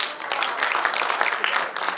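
An audience at an Urdu mushaira claps in a dense, continuous burst of applause to welcome a poet, loud and close throughout.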